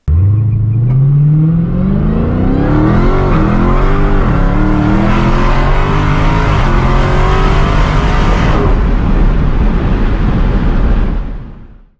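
A Dodge Challenger SRT Super Stock with its 807-horsepower supercharged V8 launches hard, the engine climbing through rising revs and gear shifts, loud and close for about eleven seconds before cutting off.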